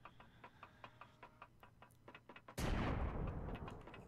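Two guns fire in the video game Empyrion as a steady run of sharp, rhythmic shots with a ticking, evenly spaced pattern, then a loud, sustained roaring blast that holds through to the end.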